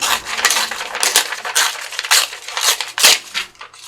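Vellum paper being torn by hand in a run of short crisp rips and crackles, close and fairly loud, with brief pauses between pulls.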